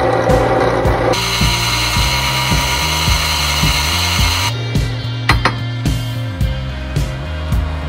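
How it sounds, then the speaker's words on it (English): A small barrel sander works on PVC pipe with a close, whirring, rhythmic grind that repeats several times, changing pitch partway through, then shorter grinding passes and knocks. "This is just a little barrel sander. I'm turning it on here and just lightly."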